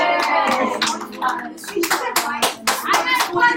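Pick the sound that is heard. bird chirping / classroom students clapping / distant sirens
classroom students clapping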